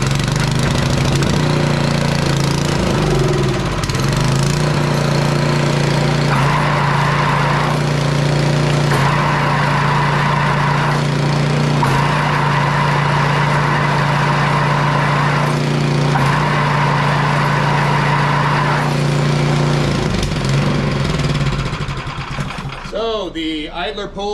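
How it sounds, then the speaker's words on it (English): Craftsman Troy-Bilt MTD 22-inch snow blower running steadily with a loud engine drone, its worn side bearings adding a recurring whine that rises and falls over a sustained rumble, close up. "Now that noise you're hearing out of this thing is coming from these side bearings."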